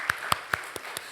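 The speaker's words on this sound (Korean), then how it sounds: "우리 하나님 앞에 영광의 박수를 드리겠습니다." Church congregation applause offered during a sermon, heard as a handful of sparse, faint, evenly spaced claps rather than a full ovation.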